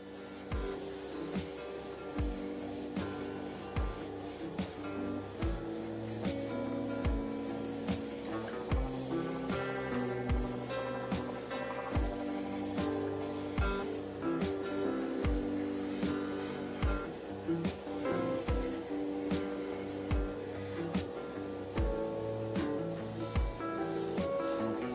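Airbrush or spray can applying a first color coat to a 1/24 scale resin model kit of an Audi RS7, with repeated hissing spray bursts over steady background music throughout.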